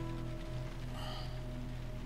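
Steady rain falling continuously over a low hum of background tones, even and unbroken throughout, with no voices, in the video game The Last of Us Remastered.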